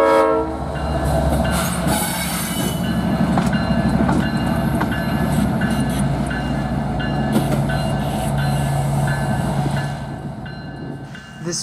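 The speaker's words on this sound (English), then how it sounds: "he is running around his train after dropping the inbound cars on the yard tracks in the Tropicana plant" CSX freight train O823 running around its cars at the Tropicana orange juice plant in Bradenton, Florida, loud and close, with a rolling rumble, clicking wheels and sustained horn blasts.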